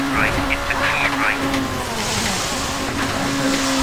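A rally car engine in Colin McRae Rally 2.0 on a Finland stage drones steadily with a sustained motor tone and tyre noise, while voices talk continuously over it.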